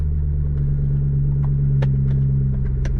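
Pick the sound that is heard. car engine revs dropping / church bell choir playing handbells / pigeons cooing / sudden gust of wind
car engine revs dropping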